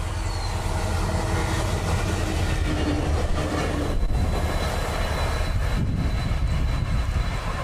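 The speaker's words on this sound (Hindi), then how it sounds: "आगे की तरफ और लोकोमोटिव लगा है, पीछे की तरफ और लगा है, दोनों लगे EMD हुए हैं।" A light locomotive run of Indian railway engines, EMD locomotives coupled at front and back with no coaches, rumbling loudly and steadily throughout as a continuous near roar.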